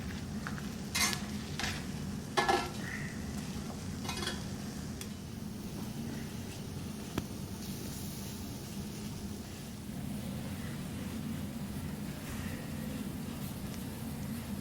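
Dried chiles de árbol are stirred in a hot pan as they toast, giving a soft steady sizzle with scattered scraping and clicking of the utensil against the pan, close and fairly quiet, with no talk.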